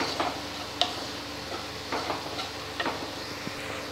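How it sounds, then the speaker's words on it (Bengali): Spices, including cumin powder and garam masala, are stirred into a frying masala in a pan, with soft scraping and light clicks over a low sizzle. "গরম মশলার গুঁড়ো দিয়ে এবার মশলাটাকে মিশিয়ে নেব।"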